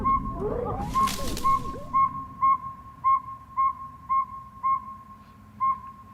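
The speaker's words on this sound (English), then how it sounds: "I have a feeling that little bird call whistle is going to be scary as shit" Little bird-call whistle in a horror film trailer, a high two-note chirp repeating at a steady rhythm nine or ten times, clear and isolated after a brief noisy burst at the start.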